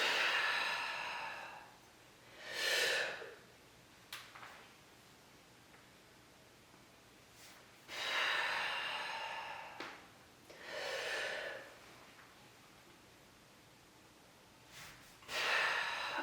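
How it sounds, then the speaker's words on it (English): Breathing during a warm-up exercise routine: several forceful, airy exhales spaced a few seconds apart, close and fairly loud, with quiet pauses between them. "Exhale as you come down. Breathe with everything."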